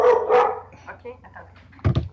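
A dog barks and yips during an indoor session, with a few short close barks, the loudest near the end, mixed with nearby human voices.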